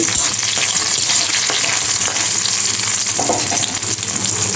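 Garlic and dried chillies frying in a pan over a gas flame, a loud, continuous close sizzle with faint stirring scrapes and no voices.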